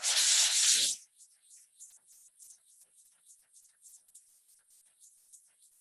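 About a second of close, raspy hand sanding of wood with 220-grit paper, then the scraping stops and only faint, light scratches remain.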